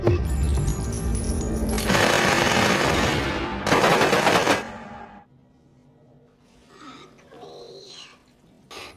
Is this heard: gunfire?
yes